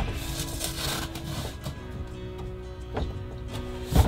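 A plywood sheet slid into place during interior construction of a DIY camper trailer: soft scraping, rubbing wood sounds with a few knocks, the loudest thump at the end.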